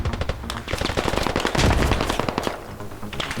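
Rapid bursts of automatic gunfire in the video game Squad crackle continuously, loud and close, with no voices.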